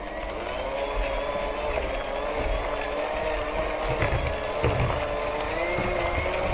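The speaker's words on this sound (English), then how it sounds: "So I'm just going to give this a little mix with my handheld whisk." Electric handheld whisk whirring steadily through melted white chocolate ganache in a bowl, a continuous motor hum with faint rattling beater contact, close and uninterrupted.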